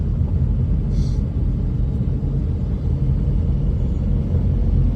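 A Tata Nano on a morning drive, heard from inside as a steady low engine and road rumble that stays even and continuous throughout, with no talking.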